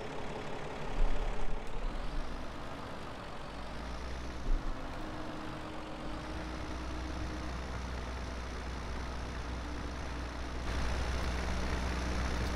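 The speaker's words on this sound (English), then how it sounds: "Just plowing uphill, I can certainly feel it in this tractor." A tractor in Farming Simulator 17 works hard while plowing uphill, giving a steady, moderately loud low engine rumble that swells slightly in places, with no voices.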